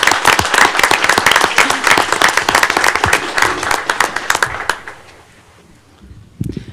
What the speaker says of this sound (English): help me give these kids a round of applause for all their hard work